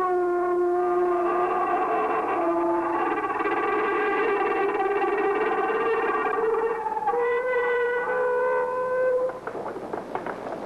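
A drawn-out, wavering electronic wail with echo and distortion, rising and falling like a mournful creature's cry, then trailing off: an Ultraman monster crying.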